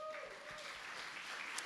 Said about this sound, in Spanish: Démosle un aplauso a las mamás.